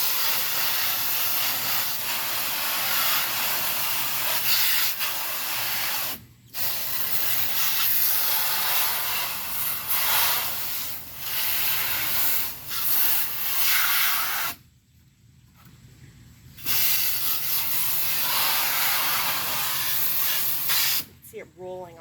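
Cleaner hisses in long, steady sprays onto the parts of a window air conditioner, with brief pauses between bursts and a person talking occasionally.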